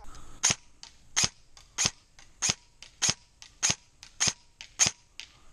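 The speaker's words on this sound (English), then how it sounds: "all those internal upgrades in this Gen 3 combine for a super crisp snap" A Lancer Tactical MK18 MOD 0 Gen 3 airsoft electric gun fires nine crisp, sharp snaps at a steady pace about twice a second, close and alone.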